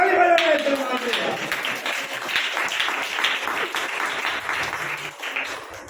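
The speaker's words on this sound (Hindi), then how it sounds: "ताली बजाओ, इत्र मला।" A church audience bursts into applause during a sermon, right after a preacher's voice trails off. Clapping stays loud and fairly dense, then thins slightly near the end.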